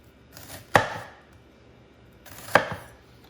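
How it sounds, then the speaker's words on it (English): Two sharp knife chops slice through an onion on a cutting board, each a crisp thud with a brief trailing scrape, spaced about two seconds apart, close and clear with no talking. "Pre-slicing the onion horizontally"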